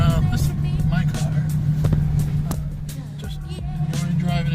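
A car engine hums low and steady while the car is driven on an everyday trip, heard from inside the cabin with a few small knocks and clicks on top.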